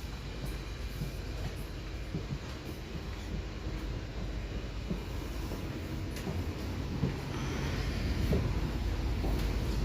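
Steady rumble and rattle from inside a moving passenger train, a continuous broadband roar that swells slightly louder toward the end, with no talking.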